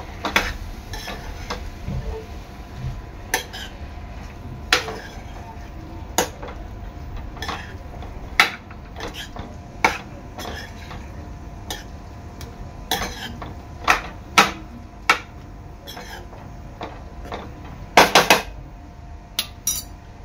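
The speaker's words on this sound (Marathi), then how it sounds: "तर आपली भाजी आहे ना चांगली मसाल्यामध्ये एकजीव करून घ्यायची आहे" Mushroom and vegetables with chana dal being stirred into masala in a pan, a spoon clinking and scraping against the metal in irregular close taps, with one dense cluster of rapid strikes near the end.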